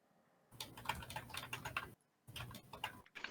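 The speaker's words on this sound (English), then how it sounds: "I can hear him typing" Typing on a computer keyboard, with rapid, close clicking keystrokes in two bursts split by a short pause, heard alone with no talk.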